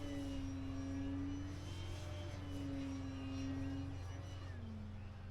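An E-Flite Commander radio-controlled airplane flies on a windy day, its electric motor whining steadily with a rising and falling pitch as it passes at a moderate distance over wind noise.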